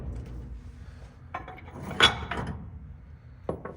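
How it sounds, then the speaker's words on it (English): Chevy S10 axle shaft sliding out of the housing during a mini spool locker install. Quiet metallic scraping leads into a few sharp clinks of loose parts, with one louder clink in the middle and another near the end. "when I pull the axle out, you're gonna see my actual axle shaft right here slide out"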